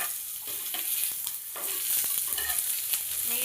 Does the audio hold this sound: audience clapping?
no